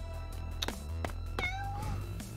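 A cat in a video game meows three times, short and clear, over a steady low game-music drone. The last meow is longer and rises in pitch.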